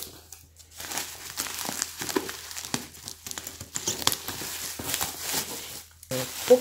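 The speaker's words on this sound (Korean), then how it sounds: "뽁뽁이 비닐로 아주 꼼꼼하게 싸셨네요" Bubble wrap around a handmade plant pot for succulents crinkles and rustles in bursts as it is unwrapped close up, with short pauses between handfuls and soft talking in the background.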